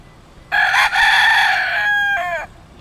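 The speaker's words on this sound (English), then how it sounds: "Rooster." A rooster crows once at a canyon viewpoint in Hawaii, loud and clear, a long rising call that breaks into a shorter final note, alone against quiet background.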